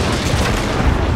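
Dense, continuous low booming gunfire from massed gunners in the Total War Shogun 2 battle, a rumbling barrage with no distinct individual shots and no talking.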